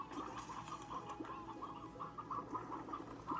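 Repeated chicken clucks from a video game, a steady run of soft, rhythmic calls over a dense, busy background of game sound with no talking.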